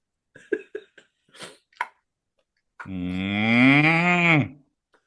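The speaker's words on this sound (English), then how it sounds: "moo to you too" A single long, drawn-out cow moo swells and then falls away, loud and close, after a few short throaty vocal noises and a brief pause.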